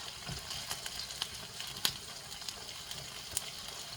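Onions for an African stew sauce frying in a pan, a quiet even sizzle with light scraping ticks as a spoon slowly stirs them around.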